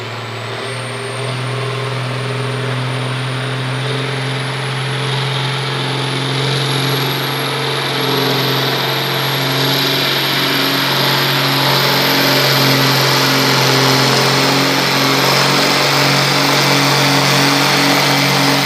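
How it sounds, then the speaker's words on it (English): Loud diesel roar of a narrow-front Ford 8000 muscle tractor under heavy load at a tractor pull, a steady, sustained drone with a rising high whine across the whole run, close and continuous without speech. "There's another muscle tractor. Look at that. A narrow front Ford 8000."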